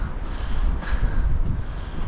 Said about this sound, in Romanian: Ia, uitați voi cum bate vântul.